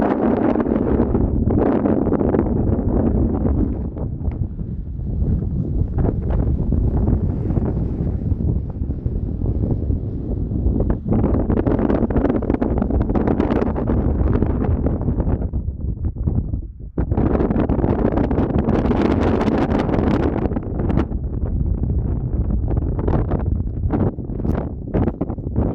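Strong gusts buffet the microphone on a mountain ridge hike, a loud roaring rush that surges and briefly drops off in waves throughout.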